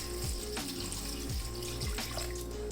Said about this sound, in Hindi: तकरीबन 1 गिलास के जितना इसमें मैं पानी डाल दूँगी